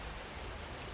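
Steady rain falls as an even, constant hiss with no other sounds.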